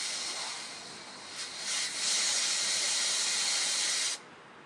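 Air escapes from the driver's front tire valve stem in a steady loud hiss, swelling briefly near the middle and then stopping abruptly at the end.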